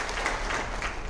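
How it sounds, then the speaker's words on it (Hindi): Audience at a beneficiary programme in Nandurbar claps for the prime minister, a brief, steady patter of applause at moderate distance. "जरा तालियां बजा के"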